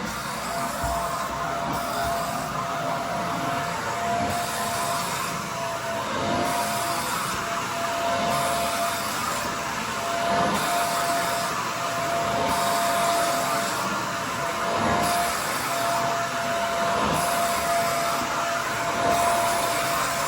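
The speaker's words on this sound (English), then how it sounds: "now we're using our vacuum to go ahead and get anything that's left over" A vacuum cleaner runs steadily and loudly up close, its motor drone pulsing slightly as it is pushed back and forth across a carpet.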